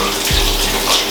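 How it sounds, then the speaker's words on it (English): A warm shower runs in a steady, loud, close stream of spraying water, with no talking. "So I've just had my warm shower."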